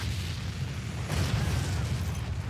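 A nuclear weapon detonating in the strategy game Forts, a heavy continuous low rumbling boom that swells slightly midway and fills the whole moment, loud and close without speech.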